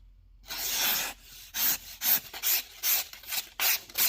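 Repeated crisp rasping slices of a sharp Spyderco Para 3 knife blade through paper, several quick strokes in a steady rhythm, close and fairly quiet.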